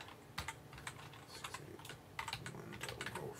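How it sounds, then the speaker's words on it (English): Someone types an IP address on a computer keyboard: quiet, irregular clusters of key clicks at close range in a hushed room, with no voices. "I'm going to type in my IP address"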